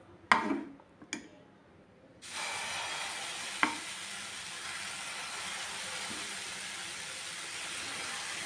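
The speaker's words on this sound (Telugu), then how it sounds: "ఆయిల్ వేసుకొని కాల్చుకుందాం." Wheat flour dosa batter hits hot oil on a pan and breaks into a steady sizzling hiss that continues to the end, preceded by a few sharp clinks and taps.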